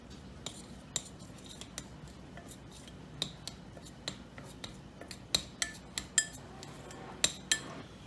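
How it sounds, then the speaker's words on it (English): Keto pie crust ingredients are mixed in a bowl with a metal utensil, producing irregular clinks and scrapes against the bowl that grow denser toward the end, close and moderately quiet, with no talk. "we just mix it all together here till we get a dough."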